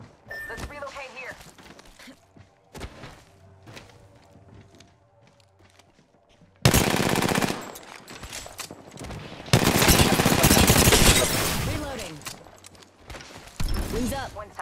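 Gunfire rings out in an Apex Legends Arena match: rapid automatic bursts and single shots, some distant and some close and loud, mixed with footsteps and game effects while players talk.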